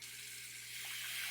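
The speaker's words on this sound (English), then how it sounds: "We're filling this up with cold water" Cold tap water running into a pot for boiling eggs, a steady hissing stream filling the vessel, close and continuous.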